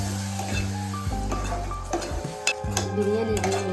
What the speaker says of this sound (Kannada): ಆದಷ್ಟು ಮಸಾಲ ಎಲ್ಲ ಹಾಕಿದ್ರೆ ಸ್ವಲ್ಪ ಲೋ ಫ್ಲೇಮಲ್ಲಿ ಇಟ್ಕೊಂಡೆ ಫ್ರೈ ಮಾಡ್ಕೋಬೇಕು